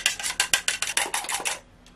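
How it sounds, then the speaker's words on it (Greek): Four eggs whisked briskly in a bowl, about a dozen quick rhythmic scraping beats of a fork or whisk against the side, close and clear, ending in a short tap with no talking. "Εδώ έχουμε 4 αυγά. Θα τα χτυπήσουμε λιγάκι."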